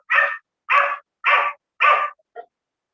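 A dog barks four times in a steady rhythm, loud and fairly near, followed by a short soft whimper; no voices present.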